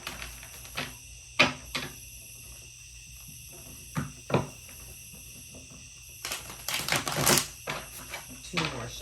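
Tarot cards riffle and snap in a handful of quick bursts, with a longer flurry of shuffling near the end, close by and fairly quiet.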